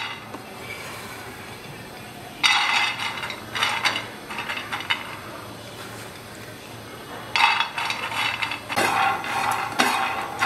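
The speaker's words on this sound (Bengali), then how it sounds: "প্রথমে আমি চীনা বাদামটাকে ভেজে নিচ্ছি।" Peanuts dry-roasting on a hot tawa over a stove, stirred with bursts of scraping, rattling clatter that come and go in clusters over a steady low background hiss, close by and fairly loud, with no talking.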